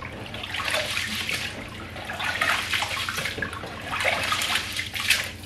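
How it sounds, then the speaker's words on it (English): Water runs steadily from a tap while basmati rice is washed, a continuous splashing rush with surges of brighter spray, fairly quiet and alone. "so I'm going to wash the rice and soak it"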